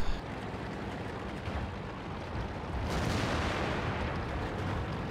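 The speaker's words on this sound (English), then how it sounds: "I'm gonna go ahead and load a HES shell and give it a whirl" HESH round fired from an FV215b tank cannon in World of Tanks, a sudden loud boom surging about midway through a steady roar of rumbling battle noise, with no voices.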